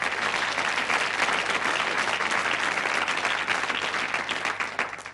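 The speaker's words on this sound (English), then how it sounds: "So, give them a clap." Steady, loud applause from a 1983 UK TV game show studio audience fills the whole stretch, dense and continuous, tapering slightly at the end.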